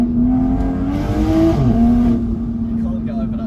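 Toyota A90 Supra fitted with a top-mount turbo, its engine holding a steady, loud drone, then rising briefly in pitch and easing back, heard near at hand from inside the car while people talk.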